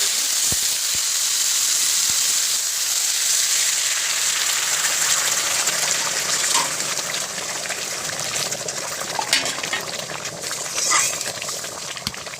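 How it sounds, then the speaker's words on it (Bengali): Hot water hits rice frying in a pot for chicken bhuna khichuri, giving a broad, continuous hissing steam rush that stays loud and close with faint bubbling. "জলটা দিয়ে দেবো।"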